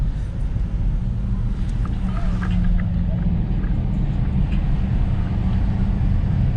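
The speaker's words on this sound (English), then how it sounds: "Oh, Jeep truck." A Jeep truck rolls past at a local car cruise, its steady low engine rumble droning loud and close throughout, with faint background sounds above it.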